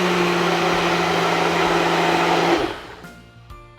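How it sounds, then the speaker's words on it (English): Strawberries are blended for a slushy in a blender, whose loud, steady motor whir runs for about two and a half seconds before winding down, followed by faint rattling and clunks as it stops. "So first, we're gonna blend it up."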